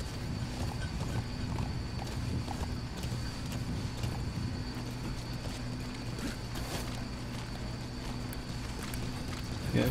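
Steady clip-clop of horse hooves at a trotting pace, moderately loud over a busy game soundscape with background tones and rustling.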